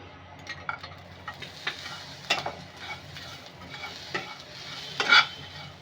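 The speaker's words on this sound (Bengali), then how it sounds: "এভাবে হালকা হাতে নাড়তে হবে যাতে পুড়ে না যায়।" Lachcha semai fried with raisins over a low flame, a soft, low sizzle under repeated light scrapes and taps of a spoon stirring gently, with a brief louder clatter near the end.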